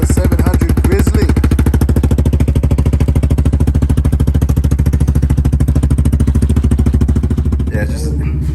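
A Suzuki KingQuad 750 ATV fitted with an HMF slip-on exhaust idles close and loud, a rapid, steady pulsing throb that holds evenly for several seconds before a brief change near the end.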